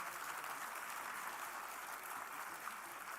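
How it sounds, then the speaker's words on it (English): A large crowd applauds steadily, a dense, even wash of clapping that holds at the same level throughout without pause. "Please give our panelists a big round of applause."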